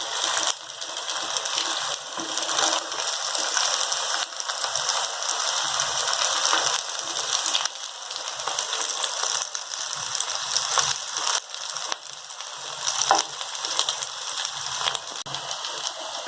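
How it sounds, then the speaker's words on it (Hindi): Semolina cheese sticks deep-fry on a high flame, giving a dense, continuous bubbling hiss of hot oil that stays loud and even throughout without speech. "अब आप देख सकते हैं कि हमारे स्टिक्स कितने अच्छे से फ्राई हो रहे हैं"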